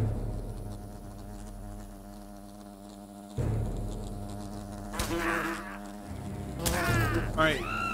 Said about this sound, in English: this is a pretty serious bee attack.